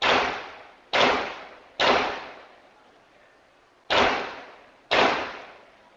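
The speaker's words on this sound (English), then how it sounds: "The now public Ring camera audio confirms 5 gunshots" Five sharp gunshots, loud and close, each with a short decaying echo, spaced unevenly with a longer pause before the last two.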